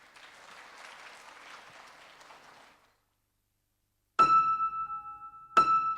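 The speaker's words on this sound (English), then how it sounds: "a big round of applause" An audience at a design symposium applauds to welcome a speaker, a steady, moderately distant round of clapping that stops abruptly, followed by silence and then two loud ringing chime tones.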